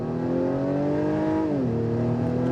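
A 2021 Acura TLX with a 10-speed automatic pulls hard under acceleration, its engine note climbing steadily, dipping briefly at a gearshift, then rising again, loud and close from inside the cabin.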